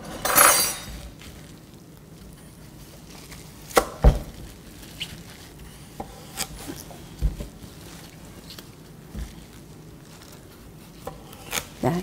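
A knife cuts radishes in half for dongchimi, a Korean water kimchi, leaving a few sharp thuds on a cutting board spaced several seconds apart. The cuts are fairly quiet and close, with faint handling noise between them and no talk.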